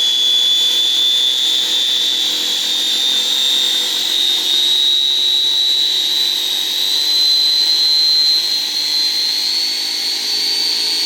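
Electric motor of a YerfDog Spiderbox go-kart converted to electric drive, running at about half throttle with a steady high-pitched whine that holds a nearly constant pitch, rising slightly, loud and close throughout with no talking.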